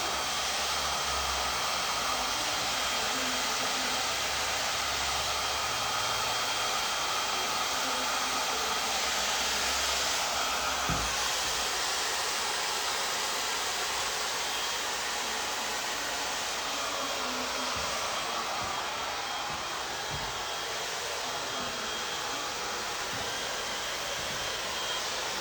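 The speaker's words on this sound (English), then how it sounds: "I'm resting the curl inside the diffuser." A hair dryer with a diffuser blows on curly hair in a long, steady, loud whoosh of airflow, with faint handling bumps now and then.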